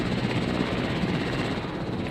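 A helicopter in a city-building game carries cargo, its steady, loud rotor and engine drone filling the moment without any break.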